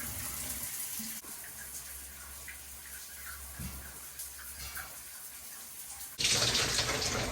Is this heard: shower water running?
yes